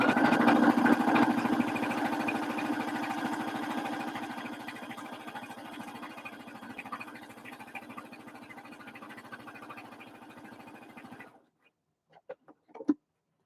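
A sewing machine steadily stitching fabric for a bucket hat, a continuous close whirring hum that runs for about eleven seconds, then stops, followed by a few light clicks.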